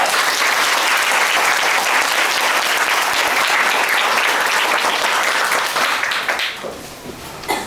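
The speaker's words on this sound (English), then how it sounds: "Let us give them a big round of applause." Loud, sustained applause from a school audience at a class 9 presentation, dense clapping filling several seconds before thinning out and tapering near the end.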